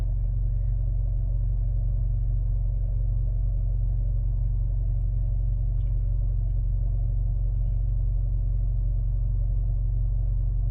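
Jetour T1 engine idling steadily to charge its battery, a constant low rumble held at an even level throughout with no revving and no talk.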